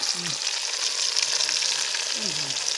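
Tilapia fish fries in a pan in a village kitchen, giving a steady, close sizzle and crackle of hot oil throughout.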